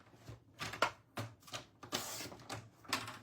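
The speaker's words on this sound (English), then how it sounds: "I'm going to take this panel now and I'm going to cut it in half." A paper card panel is cut in half for a tri-fold thank-you card, heard as a series of short, close, crisp scraping strokes in an uneven rhythm, with no talking.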